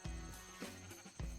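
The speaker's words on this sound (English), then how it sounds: "Nope, that's a sheep." A sheep in the video game Minecraft bleats softly in short repeated calls, faint and a little distant, with no talk over them.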